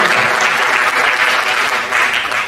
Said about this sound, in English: let's give Maya a big round of applause